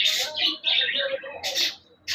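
Caged Java sparrows give short, bright chirps in quick bursts, close by and separated by brief pauses.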